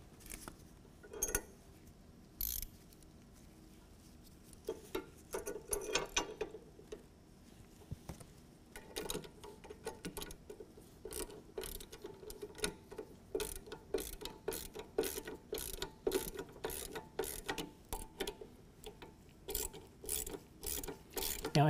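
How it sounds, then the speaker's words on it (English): A ratcheting wrench turning 17 mm nuts while assembling a DK2 Mighty Multi utility trailer, with rapid clicking ratchet strokes in repeated bursts, close and fairly quiet with short pauses between runs. "I'm going to use a ratcheting wrench."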